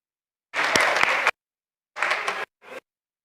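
Audience applause in three bursts: a long round of clapping, a shorter second burst after a pause, then a brief final patter.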